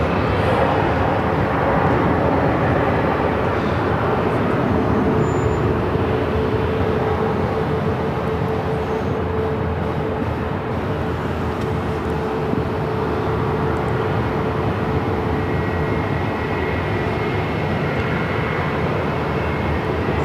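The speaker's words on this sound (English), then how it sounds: "This is Alaska Airlines flight 515 coming in from Everett on a 737-900 ER." An Alaska Airlines Boeing 737-900ER from Everett lands on runway 26 at Phoenix airport, with a loud, steady engine roar that stays continuous throughout.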